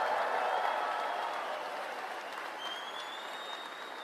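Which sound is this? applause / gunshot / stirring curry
applause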